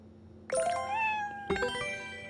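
Two bright, tonal cat meows ring out from a video game, each with a sharp onset and a sliding, chime-like tail, about a second apart over faint background hum.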